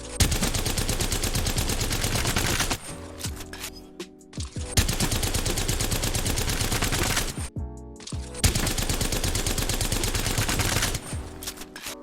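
Full-auto Havoc rifle fire in Apex Legends, loud sustained bursts of rapid gunfire in three long strings separated by short pauses, no talking.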